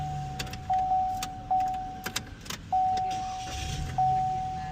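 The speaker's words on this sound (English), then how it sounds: "Now we will be able to start the vehicle with the new key." Inside a Chevy or GMC pickup, a newly programmed key is used to start the engine: keys jangle, a repeating electronic chime sounds, and an engine rumble comes up close by, with no talk.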